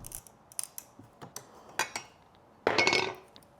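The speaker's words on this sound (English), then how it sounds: "My next step is to break this apart into the two separate end bearing plates." Metal garage door end bearing plates being broken apart by hand: a string of sharp metallic clinks and knocks, ending in a louder rattling clatter, with no talking.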